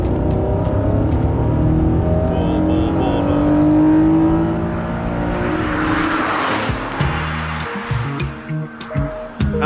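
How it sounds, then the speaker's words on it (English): Honda NSX engine revs hard and loud, a rising sustained roar that peaks, then breaks into choppier throttle blips and revs toward the end. "Honda engines are amazing. I mean, would you just listen to this?"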